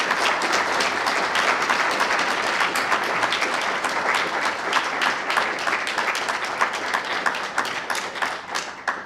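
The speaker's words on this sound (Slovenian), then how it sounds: "En bučen aplavz mislim, da si zasluži." A hall audience at a student award ceremony for the Maks Samec and Prešeren prizes gives a loud, sustained round of applause. The dense clapping holds steady for the whole stretch with no voices over it.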